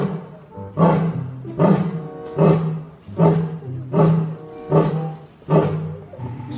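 A lion roars again and again in Jurassic World Evolution 2, deep rhythmic bursts about once a second, loud and close, with no talking.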